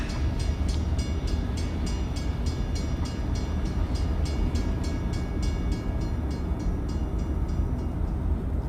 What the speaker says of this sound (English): The train was coming closer. I could hear its whistle crying.